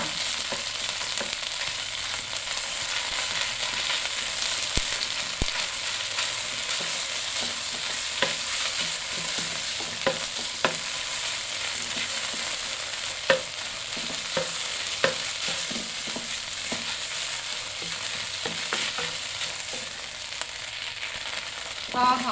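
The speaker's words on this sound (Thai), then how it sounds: "ผัดด้วยไฟอ่อนให้หอมดีค่ะ" Filling stir-fried in a pan over low heat without added oil, giving a steady close sizzle with frequent scraping and stirring clicks throughout, no talking.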